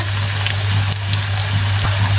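Ingredients for chili sa tế sauce stir-frying in oil until golden, a loud, steady sizzle with a constant low hum underneath and occasional scraping clicks of stirring.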